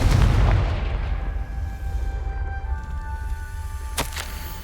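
The Confringo blasting spell goes off in Hogwarts Legacy with a heavy booming burst that rumbles and fades, a faint tonal ring lingering after it, then a short sharp crack near the end.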